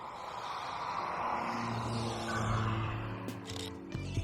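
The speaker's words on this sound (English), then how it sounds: "One more with a car coming. I heard the car coming." A car passes along a quiet rural road, its low engine and tyre rumble swelling into a broad, steady whoosh and then easing off across about four seconds, with no voices.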